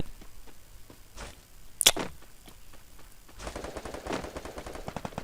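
Automatic gunfire in the mobile shooter Free Fire: a sharp burst near the start, then a dense, rapid run of shots in the closing seconds, loud and close over quiet game ambience.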